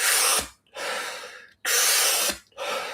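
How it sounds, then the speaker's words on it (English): A person does active deep Wim Hof breathwork, with two long, forceful, close breaths, each a loud hissing inhale followed by a short gap and then a strong exhale, in an even rhythm. "Wim Hof breath work"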